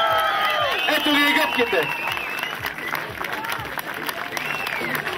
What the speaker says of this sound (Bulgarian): Аплодисменти за двамата.